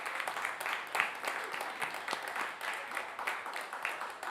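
A live radio show audience gives a fairly quiet, steady round of applause for a musician, continuous and evenly textured throughout.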